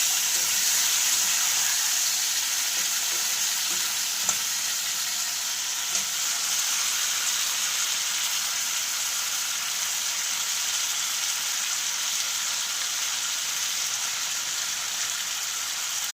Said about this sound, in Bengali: ভাজা ভাজা করে নিলাম।